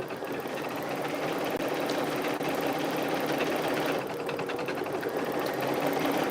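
A Brother Quattro 3 embroidery machine stitches at speed, a fast, even mechanical whirring and tapping that runs steadily and close throughout with no talk.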